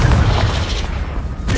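A Confringo explosion spell in the video game Hogwarts Legacy, a single loud booming blast with a heavy low rumble that quickly fades.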